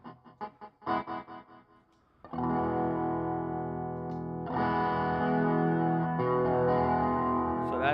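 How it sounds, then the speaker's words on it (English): Plucked bass notes ring out, then sustained chords swell with a shimmering, wavering chorus effect, loud and close with no talking. "So that's like a chorus pedal."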